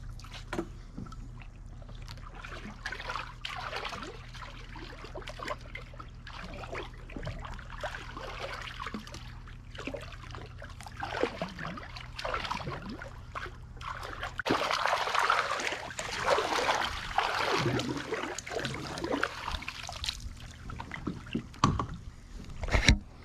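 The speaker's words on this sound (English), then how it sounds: "Stir the pool up a little bit like this." Backyard pool water is stirred while cleaning, giving repeated sloshing swishes and splashes that grow louder midway, with no talk.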